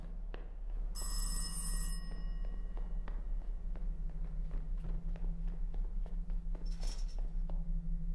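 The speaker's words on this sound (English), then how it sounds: "Phone call." A telephone rings in a horror video game set in a haunted Kowloon city, its bright repeating bell tones clear at first and then fading, over a steady low ambient hum with faint footsteps.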